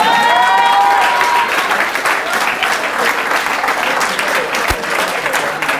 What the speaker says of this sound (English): We need to clap.